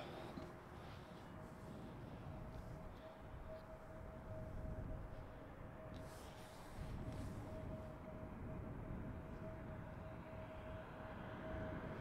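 An EasyJet airliner landing on runway 18R at Schiphol Airport, a steady distant jet roar with a faint whine, sustained and fairly quiet against broad open-air rumble.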